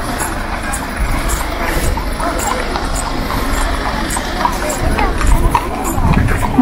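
Horse-drawn carriage hooves clip-clopping steadily at an outdoor temple festival, close and continuous amid a busy crowd with people talking throughout.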